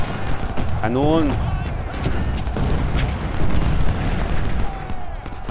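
Heavy booming cannon fire in the video game Ultimate General: Civil War over a dense rumbling battle din, with a voice shouting briefly near the start; the blasts run together continuously.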